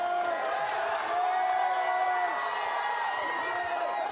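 Spectators at a Fury 113 cage fight cheer in a steady, moderately distant roar, with whoops and drawn-out shouts rising above the constant babble of many voices.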